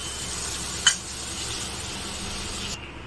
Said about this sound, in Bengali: এইখানে তেল গরম হয়ে গেছে, এবারে তার মধ্যে আমি একটু পেঁয়াজ কুচি দিয়ে দিয়েছি, হালকা ব্রাউন করে ভেজে নেব এটাকে।